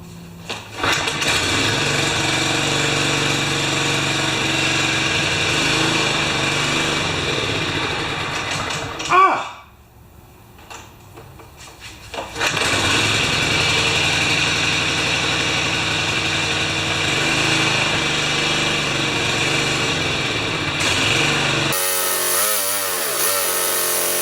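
An older John Deere 14SE lawn mower engine that won't stay running and only runs on choke roars steadily, sputters and nearly dies about midway, then picks back up before cutting off near the end.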